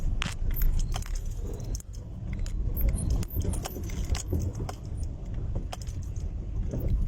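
Road traffic rumbles from inside a taxi stuck in a jam, a low steady car hum with scattered clicks, rattles and jingling from within the cabin.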